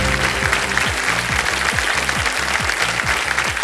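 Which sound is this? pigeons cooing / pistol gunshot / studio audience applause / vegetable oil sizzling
studio audience applause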